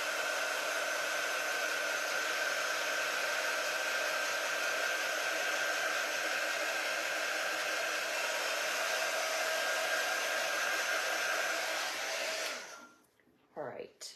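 A hair dryer blowing on small painted ghost pieces, a steady loud whirring whine held for about twelve seconds before it cuts off, followed by a few quiet handling sounds.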